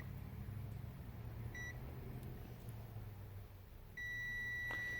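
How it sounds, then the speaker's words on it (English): A brief electronic multimeter continuity beep while probing an iPhone 8 Plus capacitor, then a longer steady beep a few seconds later, thin and high over a faint low hum. "So both sides they give us a beep."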